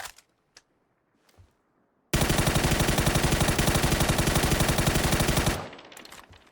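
Sustained full-auto rifle fire in the PUBG video game: a rapid, evenly spaced stream of loud shots lasting about three and a half seconds, then trailing off, with brief faint clicks before it.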